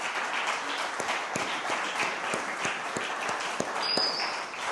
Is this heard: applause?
yes